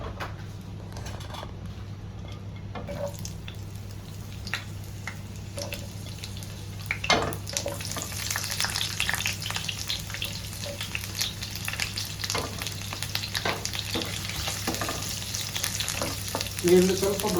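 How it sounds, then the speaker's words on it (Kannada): Onions fry in about two tablespoons of oil in a pan for Hyderabadi paneer masala, with a steady close sizzle, occasional stirring scrapes and clinks, and no talk. "ಇದು ಈಗ ಈರುಳ್ಳಿ ಫ್ರೈ ಮಾಡಲಿಕ್ಕೆ"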